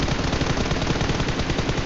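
Rapid automatic gunfire in PUBG, a dense unbroken burst of loud close shots rattling for about two seconds with no talk.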